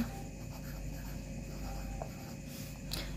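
Pen writing on a UKG English worksheet, a faint scratchy sound of strokes on paper over a low steady room hum, with no talk.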